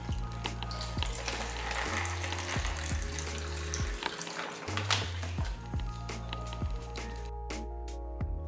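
Water runs from a kitchen tap as raw pork ribs are rinsed in a sink, a steady hissing splash with small shifts as the meat is moved under the stream before it cuts off near the end.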